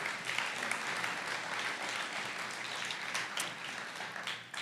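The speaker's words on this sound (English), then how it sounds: "You can give them a round of applause." A memorial service audience gives a round of applause, a steady wash of many hands clapping at moderate distance with no voices over it.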